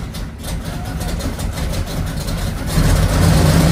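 A custom RAM 2500 pickup engine runs in a garage after a rough start, a steady low rumble that holds near and swells louder toward the end as the throttle opens.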